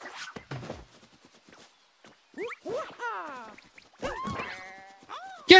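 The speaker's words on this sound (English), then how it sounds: "Get going, sheep." Sheep in a video game bleating and walking: short bursts of footstep clatter, then a run of quick, warbling bleats that rise and fall, loud and close, with brief gaps between them.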